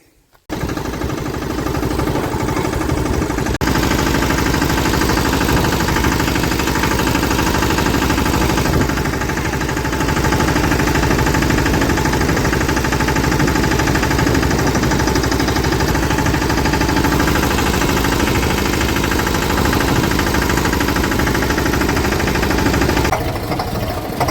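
A tractor engine runs steadily at close range, a loud continuous mechanical drone with a rough knocking vibration that holds throughout.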